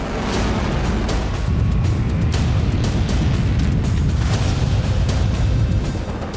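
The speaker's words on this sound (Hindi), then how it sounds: "इधर बेरूत में मीटिंग खत्म हुई, उधर इजरायल पर रॉकेट हमलों की शुरुआत हो गई।" A dense, roaring barrage of rocket attack blasts in Israel's Kiryat Shmona area near the Lebanese border, one continuous loud rumbling wall of booms with no pauses or voices.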